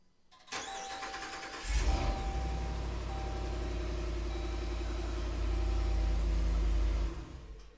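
A Jeep Grand Wagoneer engine is started with the stop-start button: a brief starter crank, then the engine catches and settles into a steady, close idle with a slight rise near the end before cutting off.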